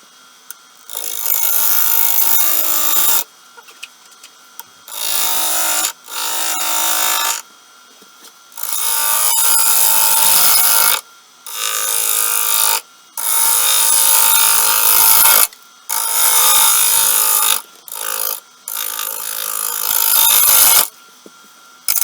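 A wood lathe spins a wood blank while a tool cuts it in a dozen loud, scraping bursts of a second or two each. Short quiet gaps separate the cuts.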